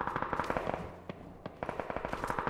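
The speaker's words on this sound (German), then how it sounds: "Schüsse hinter uns." Rapid bursts of gunfire in PUBG crackle in quick succession, with a brief lull before the shooting resumes, moderately loud and with no voices.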